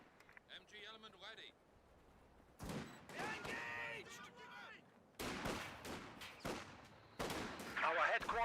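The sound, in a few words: rifle grenade and gunfire in Company of Heroes video game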